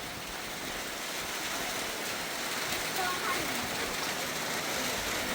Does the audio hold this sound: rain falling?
yes